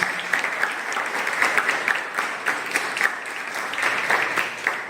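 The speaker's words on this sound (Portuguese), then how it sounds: "uma salva de palmas para Jesus." A church congregation applauds in a steady, full round of clapping from a crowd that stays fairly loud and even for several seconds.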